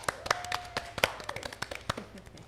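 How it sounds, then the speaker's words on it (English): Applause and scattered clapping from a studio audience greeting special guests, a short burst of sharp, irregular claps at moderate distance with a faint whistle-like tone near the start. "Let's get them a round of applause for more women in media."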